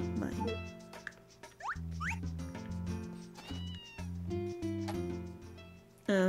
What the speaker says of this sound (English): And now my cat's going crazy.